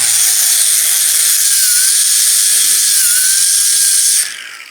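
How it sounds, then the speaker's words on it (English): Power-driven wire wheel cleaning up fresh MIG welds on metal, a loud steady high-pitched whine and hiss held continuously for about four seconds before spinning down. "I'm going to take our wire wheel for cleaning up our welds here."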